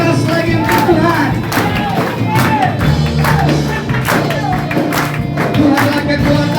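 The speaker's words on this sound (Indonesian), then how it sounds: "Sama-sama tepuk tangan lebih keras lagi untuk Tuhan" A church congregation at an evening revival service claps in rhythm, sharp regular beats over loud crowd singing and music.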